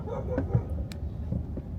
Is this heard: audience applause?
no